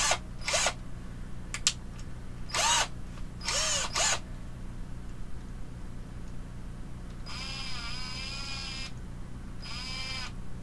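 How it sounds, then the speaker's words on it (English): A power drill run in short whirring bursts, several quick spins followed by two longer high-pitched runs with the pitch rising and falling, loud and close with little else around. "technically, I am trying to use a drill to do a Dremel's job"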